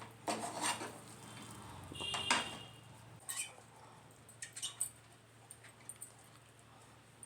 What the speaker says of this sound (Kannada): ಆ ತಟ್ಟೆ ಸ್ವಲ್ಪ ದೊಡ್ಡದಾಗಿದೆ ಅಂತ ಬೇರೆ ತಟ್ಟೆಗೆ ಶಿಫ್ಟ್ ಮಾಡೋಣ.